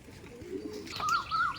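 Giribaj pigeons for sale at a home loft give a short, soft coo close by, a low murmur followed by a pair of rising tonal notes, alone without talking.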